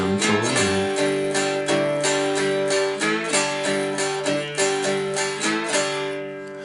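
A cigar box guitar plays one bar of blues with a slide, a steady strummed rhythm of repeated chords with sliding pitch swoops, close and full, running alone without talk before fading at the end.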